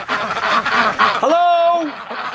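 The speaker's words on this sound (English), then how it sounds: "I can rile them up so well, and then they get all quacking like nuts." Ducks quacking in a snowy winter garden, a cluster of close, loud, nasal quacks in quick succession, ending in one long drawn-out call, with a person talking softly underneath.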